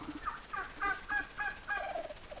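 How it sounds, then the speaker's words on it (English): Wild turkeys gobble in a series of quick, warbling bursts, about six calls in a row, fairly close and clear over a quiet background. "Turkeys gobbled."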